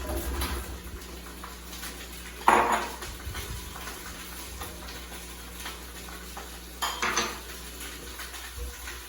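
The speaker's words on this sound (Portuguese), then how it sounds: "vou voltar a ligar a panela e agora eu coloco todos os legumes" Vegetables drop into an electric pressure cooker with two sharp clattering clunks a few seconds apart over a quiet kitchen background.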